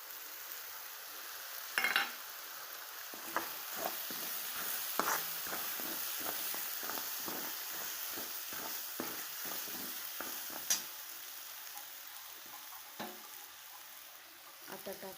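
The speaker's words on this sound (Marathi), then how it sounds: "आता टाकत आहे मूग डाळ." Moong dal sizzles steadily in a hot pan for a spicy spinach bhaji with green chillies, with repeated scraping stirs and soft knocks of the spoon close by throughout.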